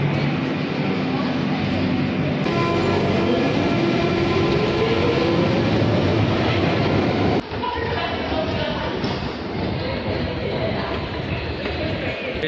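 A London Underground train rumbles through Marble Arch station, a loud continuous roar with rail clatter and squealing tones, close and steady throughout.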